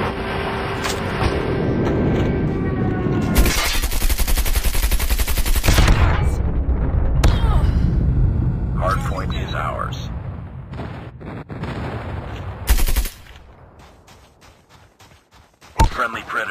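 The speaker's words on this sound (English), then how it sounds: "Friendly airstrike incoming." Call of Duty hardpoint match with an incoming friendly airstrike: heavy booms and sustained bursts of automatic gunfire rumble through, with loud stretches and sharp breaks, while announcer callouts and a player's voice come in between.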